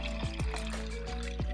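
Two cups of water poured into dry dog food, a short gurgling pour with bubbly falling plops over a low hum, fairly quiet and with no talking.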